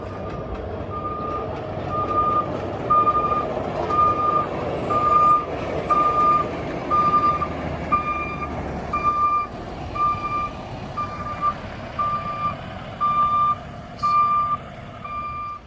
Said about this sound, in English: We got one more high rail truck coming